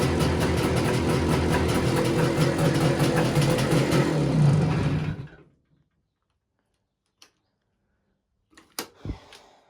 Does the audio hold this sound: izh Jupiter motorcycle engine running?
yes